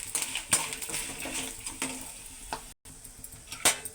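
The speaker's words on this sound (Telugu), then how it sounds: "ఇవన్నిటిని కూడా ఫ్రై చేయాలండి బాగానే." Tempering spices such as coriander seeds frying in a pan for coconut chutney, with soft crackling sizzle and a few sharp clinks and stirring scrapes, quiet and close, no talk.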